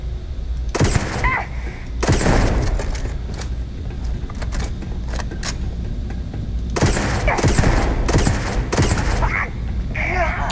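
Magpulse rifle fire in Starfield combat: repeated loud bursts of rapid shots in several clusters, separated by brief gaps filled with rumbling background noise.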